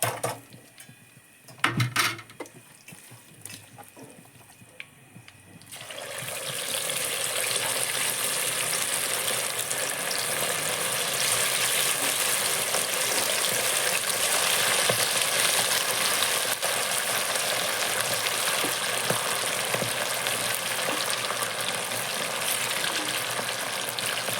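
Chicken pieces deep fry in hot oil for a Kerala-style chicken fry, first with a few utensil clinks, then a loud, continuous bubbling sizzle that holds steady to the end.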